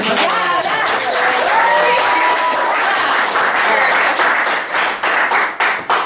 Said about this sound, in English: Let's clap for the CA.